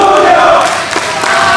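A wrestling event crowd roars and cheers loudly for a performer in a dense, sustained wash of voices, with shouts rising out of it.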